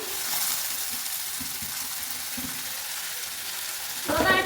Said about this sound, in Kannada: ಈರುಳ್ಳಿ ಎಲ್ಲ ರೋಸ್ಟ್ ಆಗಿದೆ ಇವಾಗ ಟೊಮೆಟೊ ಹಾಕೊತಾ ಇದ್ದೀನಿ